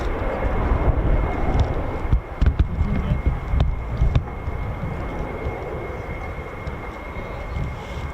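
Military jet aircraft arriving at RAF Lakenheath, home of the 48th Fighter Wing's F-15s and F-35s, a steady distant engine roar with broad rumble and occasional gusty thumps, no talk.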